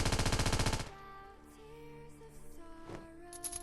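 Rapid automatic gunfire from a weapon in the mobile battle royale game Scarfall 2.0, a loud dense burst for the first second, then cutting off into quieter in-game ambience with faint tones.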